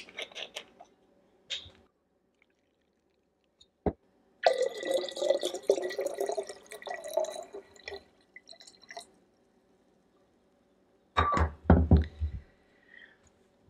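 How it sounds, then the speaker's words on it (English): Kombucha pours in a few short bursts into a glass jar, with gurgling splashes and a couple of clunks between quiet pauses. "take 1 cup of this starter kombucha and pour that into the jar."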